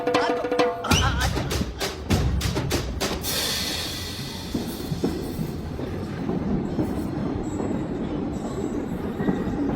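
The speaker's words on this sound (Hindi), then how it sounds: "मेरी ट्रेन छूट जा रही है" A train pulling away along a railway in a film scene, with loud rhythmic clattering of wheels over rail joints at first, then a steady rumbling roar of the moving carriages that carries on to the end.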